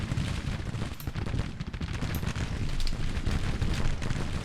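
Artillery and gunfire in the Civil War strategy game Grand Tactician: a continuous distant battle din of overlapping booms and crackling shots that runs steadily throughout, with no voices.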